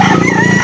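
A rooster crows close up and loud, one brief, strained cock-a-doodle-doo cut off after less than a second, at a fowl breeder's place in Lipa City, Batangas.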